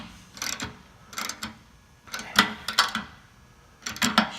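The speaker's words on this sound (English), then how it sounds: "you crank it down and you find the best spot that you like, and then you tighten it on down" Hand tool tightens a bolt on the foot of a 54-inch cast-iron roll-top bathtub, with four short bursts of close metallic ratcheting clicks separated by brief pauses.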